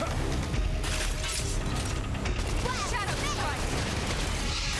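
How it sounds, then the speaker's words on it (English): Gunfire and combat effects from the video game Xenoblade Chronicles X, a dense, continuous battle mix of shots, impacts and mechanical noise with chirping tones, steady and loud throughout. "Gunfire."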